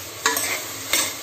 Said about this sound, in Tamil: இது நல்லா ஒரு 5 நிமிஷம் கிண்டி விடுங்க.